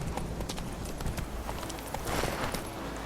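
Roach, the horse in The Witcher 3 video game, walking with a continuous rhythmic clip-clop of hooves, fairly close and steady, with faint background ambience.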